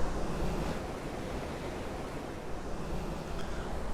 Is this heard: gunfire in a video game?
no